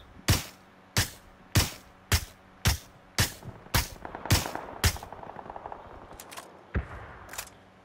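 Gunfire in PUBG on the snowy Vikendi map at night: a steady series of sharp, loud single shots about half a second apart, then a few scattered quieter shots with faint background chatter.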